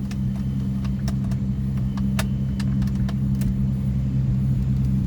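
Ford Freestyle fitted with a custom exhaust idles with a steady low rumble, close and constant, broken by scattered sharp clicks and light metallic clatter.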